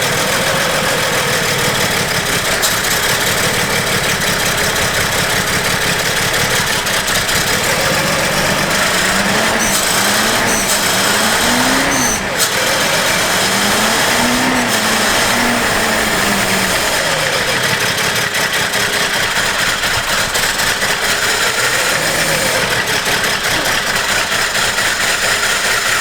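A Datsun 260Z that sat unused for 16 years runs on its first start, a loud, steady, rough idle with the engine note rising and falling in several short revving swells midway through.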